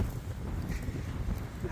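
Strong wind blows across a sandy beach near the Blackpool tram depot, a dense low roar buffeting the microphone continuously.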